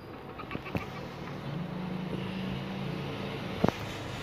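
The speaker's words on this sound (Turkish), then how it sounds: "sesinize araba sesleri, motor sesleri geliyorsa bizim mahalledeki kekolardır" A faint, distant engine drone from a car or motorbike in a residential neighborhood rises and fades, with a couple of soft knocks nearby and no talking.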